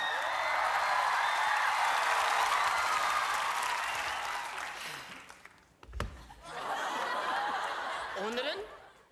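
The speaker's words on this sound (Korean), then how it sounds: "박수 박수." A comedy show studio audience on a Korean television gag program breaks into loud applause mixed with laughter, sustained for several seconds before fading. A brief sharp hit follows, then more chuckling and cheering from the crowd.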